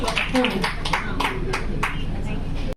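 Audience clapping at a Lions Club of Jamshedpur Femina installation ceremony in a hotel, a string of sharp, scattered claps under a voice speaking, cutting off abruptly at the end.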